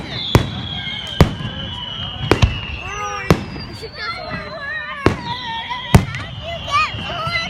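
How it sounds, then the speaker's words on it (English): Fireworks exploding: sharp loud bangs about once a second, mixed with whistling and crackling bursts, while people talk nearby. "Did you see the low fireworks?"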